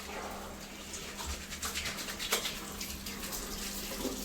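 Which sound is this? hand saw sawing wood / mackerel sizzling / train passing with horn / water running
water running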